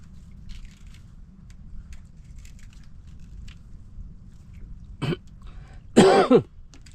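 After a quiet stretch, a single short cough is followed about a second later by a louder throat-clearing cough, both close by.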